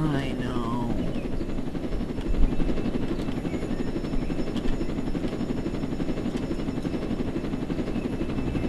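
A helicopter in the Roblox video game, a constant loud rotor whir and buzzing drone filling the whole stretch, with a few brief thumps along the way.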